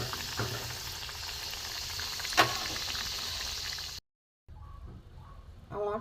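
Balushahi sweets frying gently in oil over low heat, a soft continuous sizzle that cuts out briefly and then returns, with some faint stirring noises near the end.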